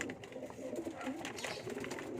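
Pigeons, kept as flyer birds, coo at close range while being fed, a steady soft murmur of calls running throughout with no talk.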